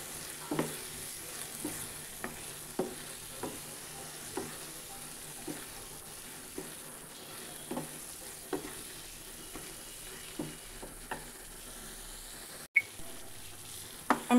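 Masala frying in a pan over a medium flame, stirred with a regular scraping rhythm of clicks and taps over a soft, steady sizzle, close and fairly quiet, with no talk.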